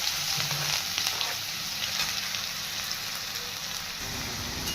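Finely chopped onion fries in hot oil in a kadhai, a dense, crackling sizzle much like rain on a surface that holds steady throughout, close and loud, with no voices.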